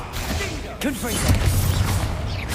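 Blasting-spell explosions go off in the wizarding game Hogwarts Legacy, with sharp booming bursts and crackling magical whooshes layered over a low rumble and a voice calling out spells.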